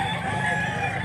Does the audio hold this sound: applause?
no